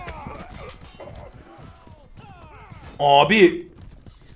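Horse hooves clatter in a quick galloping rhythm in the medieval combat game Mordhau, a dense patter under someone talking, with a loud neigh bursting out near the end.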